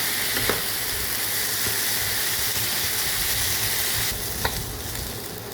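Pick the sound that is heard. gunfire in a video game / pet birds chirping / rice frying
rice frying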